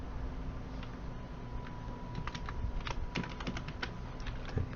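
Computer keyboard keys are pressed while working in an Excel spreadsheet, a scattered run of light clicky taps, some in quick clusters, close and fairly quiet.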